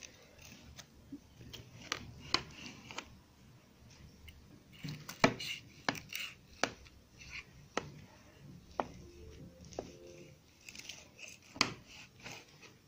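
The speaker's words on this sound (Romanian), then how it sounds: "Se taie foarte frumos blatul acesta." A knife slices through a square chocolate and walnut cake sponge, quiet soft scraping and crisp little snips repeating irregularly, close and faint in an otherwise still kitchen.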